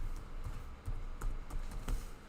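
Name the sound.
typing on a computer keyboard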